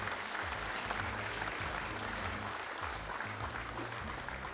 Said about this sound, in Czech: Takže pojďte ho také přivítat potleskem.